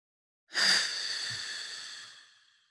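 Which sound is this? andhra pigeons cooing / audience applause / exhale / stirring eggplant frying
exhale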